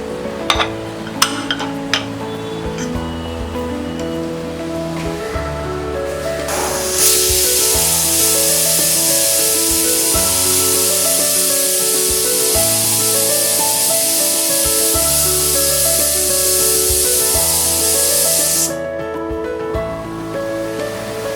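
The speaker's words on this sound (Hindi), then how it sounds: "दो विसल हो गए हैं, गैस ऑफ कर देते हैं।" Music plays while a loud, sustained hissing steam release from a pressure cooker of broken wheat and moong dal khichdi on medium flame rises suddenly, holds for about ten seconds, then cuts off.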